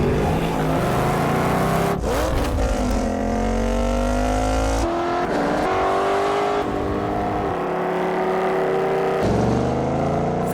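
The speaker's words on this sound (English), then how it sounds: "Ford Mustang." A Ford Mustang engine roars and revs loudly and close, rising and falling in pitch across several bursts, with sharp shifts between gears and no talking.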